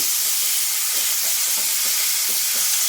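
Food frying in very hot oil in a pan over high heat, a steady close sizzle and hiss with soft stirring scrapes throughout, no voices.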